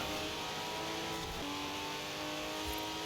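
A Porsche 959 in a street-race video game drones along at steady speed, its engine tone holding and then shifting pitch with a gear change, a continuous mid-level hum with no voices.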